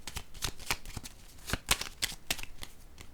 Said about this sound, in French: Je vais déposer une carte dans l'ombre.